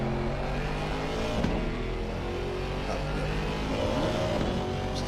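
A race car engine from Assetto Corsa Competizione heard from a rear onboard camera, a steady loud drone with shifting tonal whine, held at a roughly constant pitch with slight revving swells.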